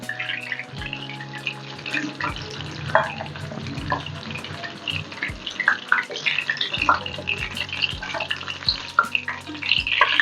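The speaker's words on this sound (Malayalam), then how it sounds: "എണ്ണ വെച്ച് പൊരിച്ചെടുക്കുന്നുണ്ട് കേട്ടോ" Chicken pieces fry in oil for chicken kondattam with a constant crackling sizzle, joined by irregular clatters and scrapes as they are moved around.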